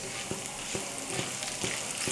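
Mustard and cumin seeds sizzle in hot oil for a Telugu raw tamarind chutney, a steady close frying hiss with sharp seed pops and crackles breaking through at irregular moments.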